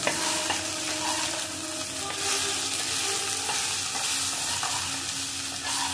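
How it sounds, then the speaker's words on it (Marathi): Okra fries in a pan with kokum, a strong, even sizzle with light scraping and occasional taps from stirring, close and uninterrupted by speech. "भेंडी खूप छान तळली गेली आहे."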